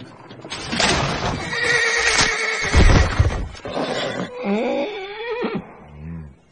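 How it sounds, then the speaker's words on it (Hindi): A horse in pain lets out loud, strained whinnies and neighs, long wavering cries repeated close up, with hoof stamping and commotion in a crowded ancient Pompeii street scene. "वो घोड़ा दर्द से तड़प रहा है"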